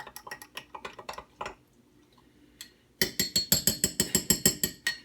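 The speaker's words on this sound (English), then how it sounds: "But we're just going to stir that up." A homebrew beer mixture stirred in a container, producing a steady run of bright clinks and taps from the spoon, a quiet pause in the middle, then a louder, faster series of ringing knocks.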